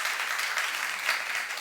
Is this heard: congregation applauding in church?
yes